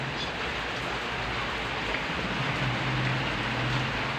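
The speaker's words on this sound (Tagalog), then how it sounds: "Lakas ang ulan ngayon." Heavy, steady rain pours down during a typhoon, a dense, even hiss that stays constant throughout with no voices.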